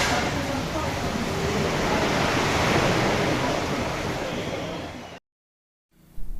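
Steady broadband rush of sea water streaming past the hull of the cruise ship Radiance of the Seas, loud and continuous for about five seconds before cutting to silence, then a brief return.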